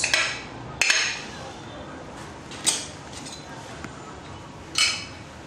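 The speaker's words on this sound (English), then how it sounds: "I'm just going to cut all this in chunks" A knife cuts through cooked sweet potato on a board, giving four sharp separate knocks spread over a few seconds against quiet kitchen background.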